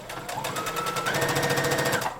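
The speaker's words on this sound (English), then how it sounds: "I'm gonna sew them from the wrong side just because I'm a rebel and I like to see what I'm doing" A sewing machine top stitches palazzo pants from the wrong side, a close, steady, rapid mechanical chatter of needle strokes running evenly for about two seconds without talk.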